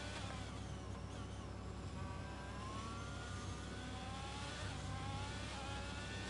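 An Alfa Romeo Formula 1 car in the F1 22 video game during a Spanish Grand Prix league race, its high engine whine steady and loud, with rising pitch as it accelerates out of corners.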